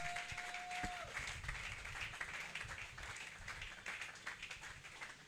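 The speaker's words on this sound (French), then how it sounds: "Acclamons pour la gloire de notre Dieu." A church congregation claps together during a sermon, a dense, faint, distant patter of many hands holding steady throughout.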